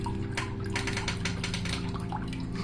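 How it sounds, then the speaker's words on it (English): Water trickles steadily from a Zoomed paludarium waterfall kit fitted with an Exo Terra Aztec head and cork bark in a crested gecko enclosure, a continuous close splashing wash over a low steady hum. "that's my Zoomed waterfall kit that I use the Exoterra Aztec head and some cork bark"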